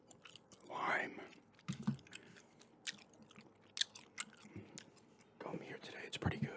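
Close-miked chewing of island berry lime gum, with soft wet smacks and crunchy bites in an irregular rhythm, mixed with quiet whispering.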